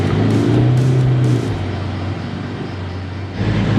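A Toyota Prado 4x4 crawling up a steep hill in low first gear, its engine droning loud and steady close by, easing slightly in pitch partway through, with no one speaking.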